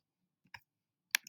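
Two brief clicks on a computer keyboard, spaced about half a second apart, as heart rate figures are typed in; quiet and close, with no talking.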